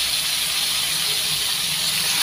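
Chicken pieces hitting a hot pan and flaring up, giving a loud, steady, close sizzling hiss that runs unbroken throughout.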